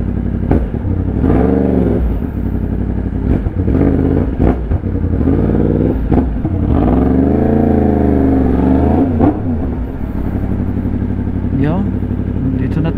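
A rider on a motorcycle in road traffic near Clark hears a steady close engine drone with rises and falls in revs and passing vehicle sounds, while people talk over it.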